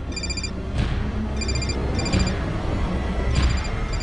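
An electronic phone ringtone trills in repeated short bursts, four rings spaced about a second apart, heard close over a faint background hiss.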